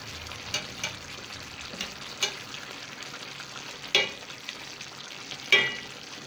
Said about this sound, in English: Then I turn my fish just to make them cooked on the other side also.